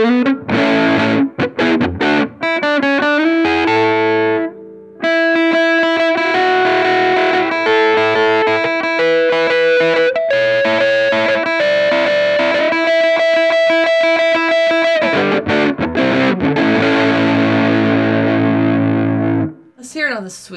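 An Ernie Ball Music Man StingRay RS bass played through heavy distortion with the gain cranked, loud and sustained, with riffs and held notes that stop abruptly near the end.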